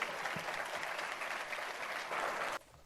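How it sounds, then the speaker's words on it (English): An audience claps steadily at the 2022 State of the Latino Community Address in Sonoma County, a dense, even wash of applause that stops abruptly near the end, leaving a quieter room. "Let's give one more round of applause to Los Cien."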